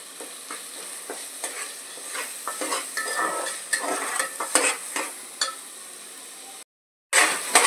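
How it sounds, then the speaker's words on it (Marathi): Masala spices roasting in oil for a spicy crab curry, with soft sizzling and repeated scraping stirs of a spoon against the pan, close up, briefly cutting out near the end. "आता आपल्या मसाल्याला तेलही सुटलंय, मसाला भाजून झालेला आहे"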